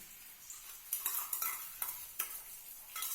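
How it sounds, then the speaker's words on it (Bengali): Egg being stir-fried into bhujia with black pepper and chaat masala: a soft sizzle under repeated scraping strokes of a spatula against the pan, roughly every half second, close and fairly quiet. "ডিমটাকে আগে ভুজিয়া বানিয়ে নিচ্ছি আর ডিমের মধ্যে একটু গোলমরিচ আর একটু চাট মশলা দিয়ে দিয়েছি"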